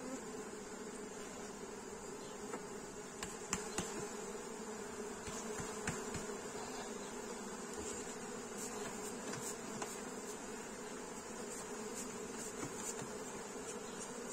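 Honeybees buzz steadily around a bee house, a dense continuous drone with a few individual insects passing close by, and no talking.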